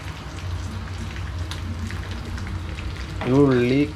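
Onions fry in a pan for a Kerala-style fish curry, giving a steady crackling sizzle close by that carries through most of the clip, with a voice speaking briefly near the end.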